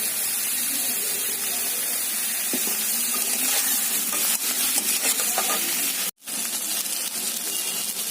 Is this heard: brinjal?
yes